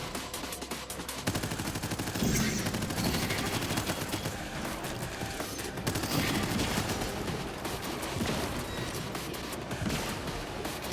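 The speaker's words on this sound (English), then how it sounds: "Oh, bloody explosions non-stop." Non-stop explosions and gunfire in the roguelite FPS game Abyssus: dense rapid shots and booming blasts overlap continuously, loud and close, with no pauses over the whole stretch.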